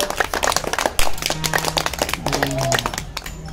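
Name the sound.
audience clapping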